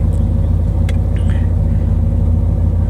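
A 60-year-old Ford Galaxie engine idles, a loud steady low rumble close by, with no voices.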